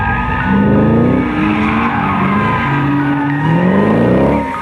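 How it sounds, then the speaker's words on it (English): Race cars drift around a corner at Laguna Seca, loud sustained tire squeal wailing over roaring engines close by, the pitch sliding as the cars slide through the turn. "That camera's like under the bumper of these cars as they're drifting around."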